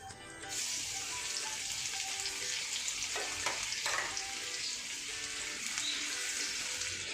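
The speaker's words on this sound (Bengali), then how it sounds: "এবার আমি রসুন কুচিগুলো দিয়ে দিচ্ছি" Chopped garlic for chilli paneer sizzles steadily in hot oil, a loud continuous crackle with a brief stirring scrape partway through.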